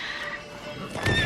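A horse whinnies in the video game The Witcher 3, one short loud neigh near the end of a brief burst, with hoof clip-clop and a voice around it.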